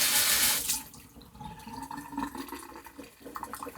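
Something is rinsed under a running kitchen tap: a loud gush of water at first, then a softer splashing and trickling into a sink, close by with no talking.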